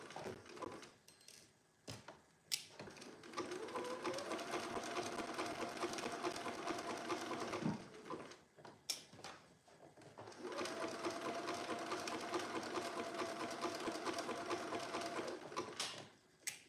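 A sewing machine stitches a seam on a Billie sweatshirt in two long steady runs of motor whirring, separated by a pause with light handling clicks.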